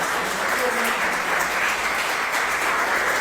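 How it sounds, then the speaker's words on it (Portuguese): An audience at a public spiritist lecture on evangelizing applauds. Loud, dense clapping from many hands fills the room evenly, with faint voices underneath. "Gente, palmas aqui para os..."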